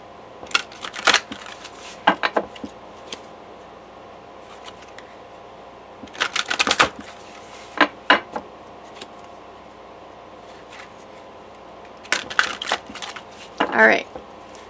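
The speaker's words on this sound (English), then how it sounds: "I go ahead and shuffle my tarot cards until I feel like I don't need to shuffle them" Tarot cards being shuffled in short bursts of riffling and flicking, separated by quiet pauses, close up.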